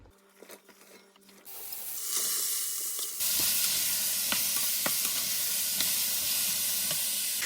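Courgette cubes sautéing in a casserole pot, opening with scattered clatter before a loud, steady sizzle builds and holds up close, dotted with sharp crackles and pops.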